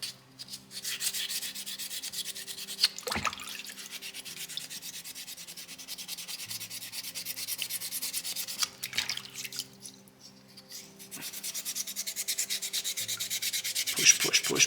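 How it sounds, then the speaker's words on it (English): Wet sandpaper rubbing over a soapstone owl carving, a steady close scratchy hiss of back-and-forth strokes with a couple of short louder scrapes and brief pauses. "with sandpaper number 1. Doesn't matter what rock you're finishing, it all starts from that initial finishing stage."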